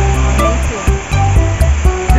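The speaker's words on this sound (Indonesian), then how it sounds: "What do you think about this waterfall?" Banyu Mala waterfall pours in a loud, continuous rush close by, overlaid by a regular pulsing, mechanical rhythm.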